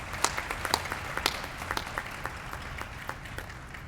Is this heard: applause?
yes